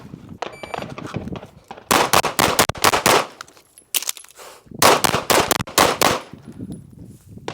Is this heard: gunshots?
yes